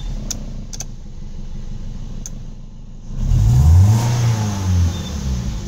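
Toyota Vios engine misfiring as it revs, a rough, uneven mid-pitched roar swelling up after a quieter idle, heard close and loud with no talking.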